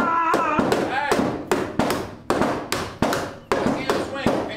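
A hammer is swung against a car, giving a series of about ten sharp metallic impacts at an irregular, fast rhythm, each ringing briefly; people shout and talk over the blows.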